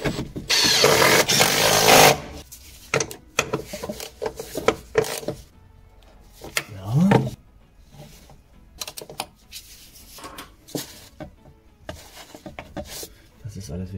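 Bolts on the rear shock absorbers of a Seat Exeo 2.0 TDI being tightened, a burst of loud rattling power-tool noise at the start followed by scattered metallic clicks and knocks of hand tools while someone talks.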